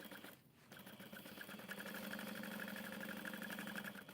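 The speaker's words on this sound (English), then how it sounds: "I'm just going to sew the curve at 1/8 of an inch into the seam allowance" A sewing machine sews a curve on a tote bag's gusset close to the seam allowance, a fairly faint continuous hum that holds steady for the whole stretch.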